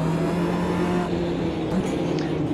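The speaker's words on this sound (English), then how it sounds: "Really got to keep these up in the high revving range, I think." Race car engine in Automobilista 2 held high in the rev range, a loud, continuous droning whine that dips slightly midway, close and alone.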